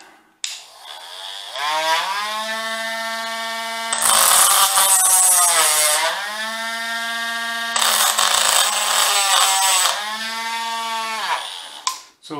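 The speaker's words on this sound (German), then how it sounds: "da kann man das kurz anschleifen" An 18650 battery cell terminal is roughed up with a whining motorized sanding tool before soldering: a steady, close harmonic drone broken by two louder, grittier bursts as the tool bites into the metal, with no talking.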